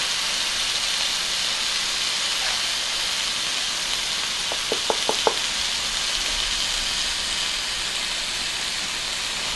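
Food frying in an oiled pan, a steady hissing sizzle throughout with a short series of faint clicks partway through.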